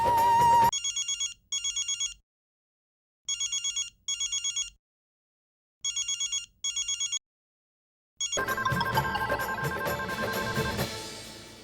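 A telephone rings in three pairs of short electronic trills separated by silences, then gives way to a louder, busy burst of noise.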